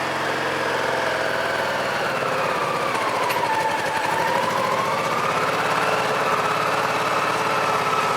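A cold Honda PC-800 motorcycle engine idles steadily and close by, its speed drifting slowly down and back up as it hunts, with no other sounds over it.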